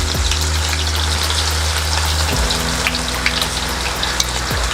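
Mustard seeds crackling and ginger frying in hot oil for a Kerala-style tuna fish pickle, a loud continuous sizzle close by with a few sharp pops scattered through.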